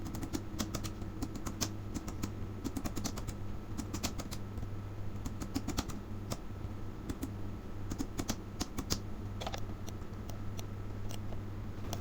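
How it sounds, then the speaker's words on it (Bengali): Quiet, rapid clicking of keys on a computer keyboard while text is entered into a spreadsheet, in irregular bursts and short pauses over a low steady hum, close to the microphone with no speech. "এইভাবে আমাদেরকে টাইপ করে দিয়ে"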